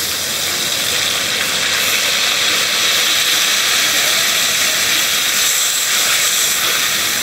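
A loud, continuous sizzling hiss fills the air as water hits a very hot pan while cooking catla fish gravy, steady throughout with no voices.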